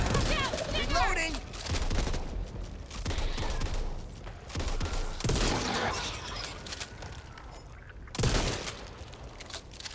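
Shotgun blasts in the Back 4 Blood video game, a series of loud, close booming shots fired in irregular bursts about a second or two apart over continuous game noise, with a player talking in between.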